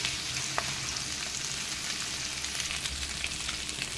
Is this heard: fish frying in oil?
yes